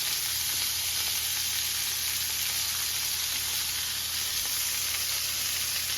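Hand cut pork chops frying in a pan, a loud, steady close-up sizzle with continuous crackling hiss throughout and no talking.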